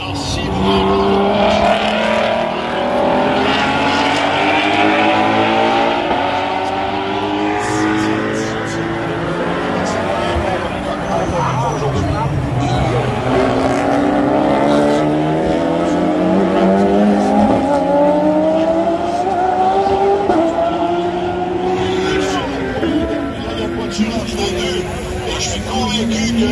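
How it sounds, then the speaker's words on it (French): Race cars including a Mustang, Ferrari and Porsche lap a circuit at the GP3R 2025 Coupe du Maire, engines revving and shifting loudly and continuously, with a commentator speaking over the steady motor roar throughout. "Alors voilà Martin Burroughs dans sa Ferrari."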